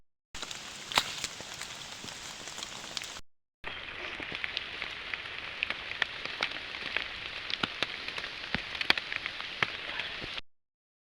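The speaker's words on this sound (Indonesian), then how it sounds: "Kabut sudah semakin tebal, hujan sudah semakin sangat deras sekali." Heavy rain pours steadily on a misty mountain hiking trail on Mount Manglayang, a dense close hiss with scattered heavier drops, briefly cut off near three seconds before resuming.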